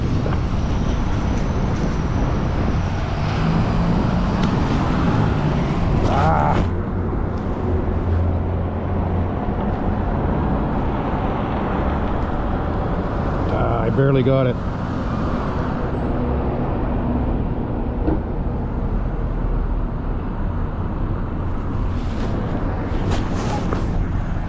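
Heavy road traffic on Robert-Bourassa Boulevard in downtown Montreal rumbles steadily as a Bluebird school bus passes close by, with a short squeal of brakes midway through the steady engine noise.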